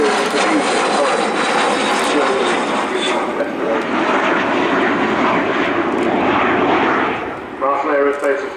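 Avro Vulcan XH558 delta-wing bomber flying its Sunday display at RIAT 2013, a loud, continuous roar of jet engines filling the whole stretch, with a voice talking over it and the roar shifting slightly near the end.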